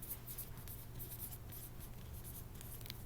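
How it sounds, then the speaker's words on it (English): A pen or pencil scratches across paper in quick, short repeated strokes, faint and close, with nobody talking. "Okay, so then I'm going to write"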